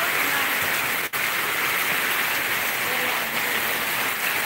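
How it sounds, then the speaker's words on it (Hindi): Heavy rain pours down outdoors in a steady, dense hiss across a residential street as the first winter rain arrives, with water collecting near houses; the roar stays constant and loud, with only a brief dip. "बड़ी तेज़ बारिश हो रही है"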